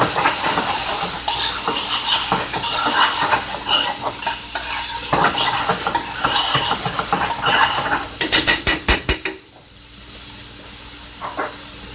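Large, previously cooked shrimp stir-fried in a pot for a coconut alfredo dish: loud, close sizzling and hissing under repeated scraping stirs, ending in a quick run of utensil clatters before the sizzle drops away to near quiet.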